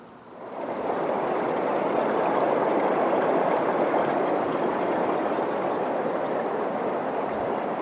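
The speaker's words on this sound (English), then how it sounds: "We're walking up a waterfall. It's just the waterfall's under our feet." Waterfall water rushing over rock right underfoot while climbing up a hillside falls, a steady, loud, broadband roar that holds constant throughout with no talk.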